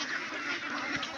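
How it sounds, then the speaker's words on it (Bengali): Several ducks, including a white one, quacking together at a farm in the late afternoon after being called, a dense overlapping chorus that stays steady and fairly close throughout the short stretch. "হাঁসগুলোকে ডাকতেছি, সবগুলো হাঁস আমার সামনে চলে আসছে।"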